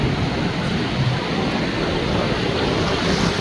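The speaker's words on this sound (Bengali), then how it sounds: "বর্ষা মৌসুমে অনেক মজা কক্সবাজার, বড় বড় ঢেউ দেখা যায়, পানির জোয়ার" Big monsoon-season sea waves roll in at Cox's Bazar beach, a steady, loud wash of surf with wind rushing across the microphone throughout.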